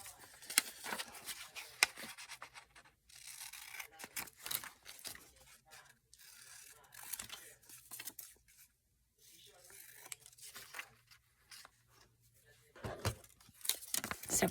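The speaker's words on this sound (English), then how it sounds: "I am just going to cut these straight across." Scissors snipping straight across paper pages while making an altered book, a series of close, quiet cuts and rustles scattered through the clip with soft pauses between them.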